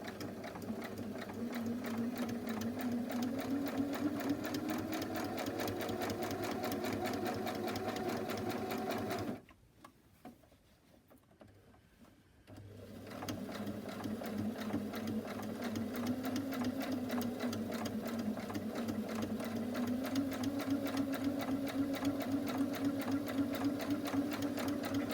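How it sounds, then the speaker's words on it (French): A sewing machine stitches close to the edge of a fabric face mask, running with a steady, loud, rapid whir, stopping briefly for a few seconds, then resuming at the same pace. "on vient mettre notre aiguille à 1 ou 2 mm du bord du masque et on va venir faire notre piqûre"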